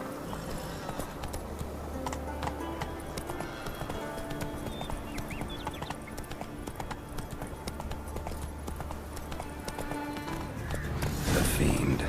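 Roach, the horse in The Witcher 3 video game, galloping with steady rapid hoof clip-clops under game ambience and music, a voice speaking briefly, the sound swelling louder near the end.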